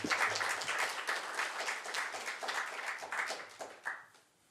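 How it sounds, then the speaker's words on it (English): An audience at a lecture claps in sustained applause that stays fairly even for several seconds, then thins and fades away. "So if everyone will join me in giving a round of applause"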